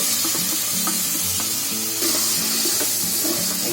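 Mushrooms hit a pan of frying capsicum and onion, giving a loud, continuous sizzle with occasional stirring scrapes and clinks, close up and with no talk.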